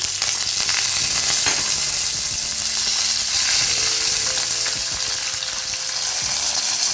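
Urad dal and spices roast in hot oil for a millet upma, giving a loud, continuous close-up sizzle with occasional stirring clatter.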